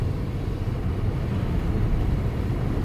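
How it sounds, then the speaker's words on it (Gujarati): Inside an Alto K10 car driving on a Rajasthan road in rain, a steady low rumble of engine, tyres and rainfall fills the cabin continuously without pause, loud and close, with no voices. "કારણ કે બહાર વરસાદ છે ને, તો ગાડીમાં અવાજ બહુ આવે છે."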